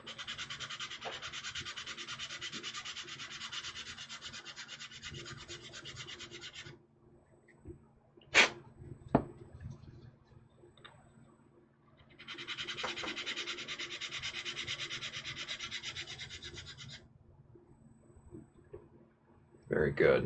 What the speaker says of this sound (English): proper filing and hopefully a nice flat bevel in this thing all the way around